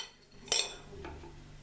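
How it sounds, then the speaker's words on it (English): A spoon clinks once sharply against a cup of morning tea with lemon and mint, followed by a softer tap and faint stirring, quiet and close. "Then stir everything in."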